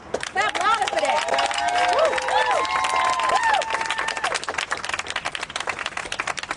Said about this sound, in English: We got to clap louder for that. Clap louder for that.